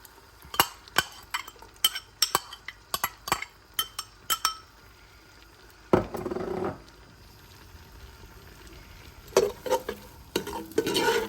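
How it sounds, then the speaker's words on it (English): A utensil repeatedly scrapes and clinks against a frying pan while stirring onions for shrimp creole, in quick irregular strokes, with brief bursts of sizzling between stirs. "Got a good stir."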